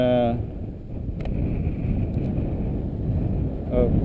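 Strong wind around 15 mph roars steadily across an open outdoor spot where a twister kite is being flown, buffeting the microphone with low rumbling gusts throughout, with brief voice bursts at the start and end.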